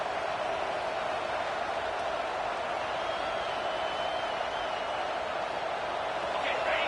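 Stadium crowd roar at a football game on third down, a dense, steady wash of massed voices filling the space at constant loudness with no distinct individual sounds.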